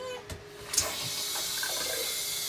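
In a 2019 Outdoors RV 21KVS during winterization with compressed air, a faucet opens after a couple of clunks and water gushes in a steady hiss, sputtering as air pushes through.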